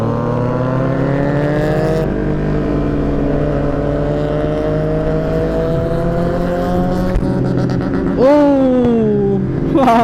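A Yamaha MT03 motorcycle revs hard during a wheelie, its engine pitch climbing in steady sweeps and spiking sharply near the end, loud and close over wind noise.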